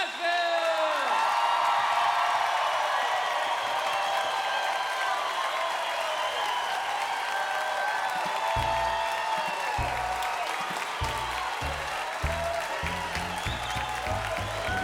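A live comedy audience at the Ryman Auditorium in Nashville, at a country comedy show, applauds and cheers in a sustained, dense wash of clapping and whoops that fills the hall for the whole stretch, with voices mixed into the crowd noise.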